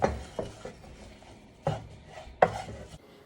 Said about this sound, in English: Start by chopping up 1 garlic clove and onions.